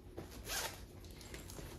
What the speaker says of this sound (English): So it has a zipper.